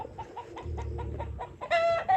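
Backyard chickens in a run give short, repeated clucks at a moderate distance, with a brief louder squawk near the end and outdoor background noise.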